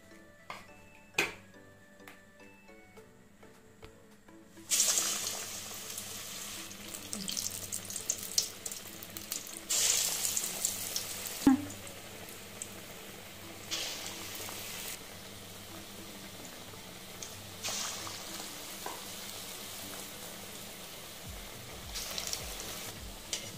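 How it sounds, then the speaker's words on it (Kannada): Aloo bonda deep-frying in oil: a near-silent start, then a broad, loud bubbling sizzle bursts in as the batter balls drop, settling into a continuous crackle with occasional clicks. "ಈಗ ಎಣ್ಣೆಲಿ ಡೀಪ್ ಫ್ರೈ ಮಾಡ್ಕೊಳ್ಳೋಣ"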